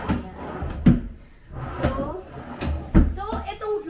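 Bedroom cabinet drawers slide and thump as they are opened and shut, several knocks spaced about a second apart, close by, while a person talks over them.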